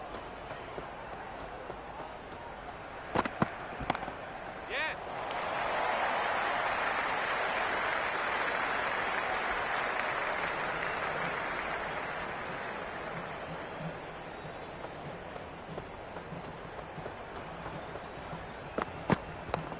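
A cricket crowd at a T20 World Cup match between Australia and Sri Lanka swells into a broad, sustained roar of cheering and applause. It builds, holds for several seconds and fades, with scattered claps and knocks before and after.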